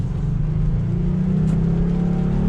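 A Jeep Gladiator fitted with a new cold air intake revs nearby, a loud deep engine drone holding a steady pitch that climbs slightly, with a brief high whoosh partway through.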